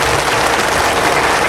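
Women in a devotional gathering at Alandi clap together in a loud, dense, steady burst of applause with no talking on top.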